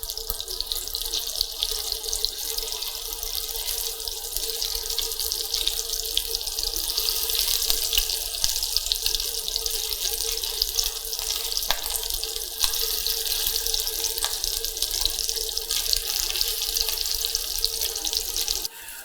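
Meatballs frying in a pan until browned, a close continuous hissing sizzle holding steady throughout with faint scattered pops.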